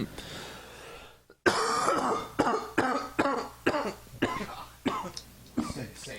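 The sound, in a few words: coughing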